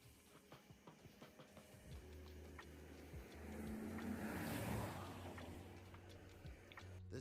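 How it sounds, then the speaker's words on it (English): A car engine of oncoming traffic swells as it approaches on a bridge at night, rising to a peak and fading again, faint and distant beneath ticking and rustling handling noise. "The sound of an approaching engine turns out to be nothing more than oncoming traffic"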